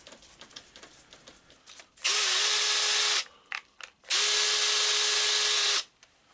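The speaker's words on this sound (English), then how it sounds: "pop the screw back in, remembering that it goes anti-clockwise to tighten" A Makita cordless drill driver runs in reverse to drive a screw into its keyless chuck, giving two loud whirring bursts of one to two seconds each, separated by a brief pause and quiet handling noises.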